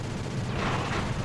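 A missile blast in the game Sly 2: Band of Thieves, a dense, rumbling burst of noise with a low roar that swells over about a second and stays loud throughout, with no clear separate hits.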